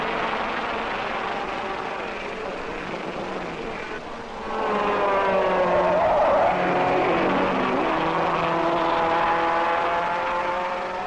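A 1961 Formula 1 race car at the Monaco Grand Prix screams past, its high engine note building sharply midway and holding loud with shifting pitch, under a general background hum.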